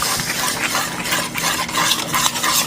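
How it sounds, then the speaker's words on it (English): Jerk BBQ sauce is stirred in a bowl for meatballs, a continuous wet scraping and swishing of a utensil against the bowl, close and steady with small clinks, no talking. "Now, my pips, mixing the sauce."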